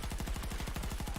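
Rapid automatic gunfire in a video game, a steady loud burst of evenly spaced shots filling the whole moment with no voices over it.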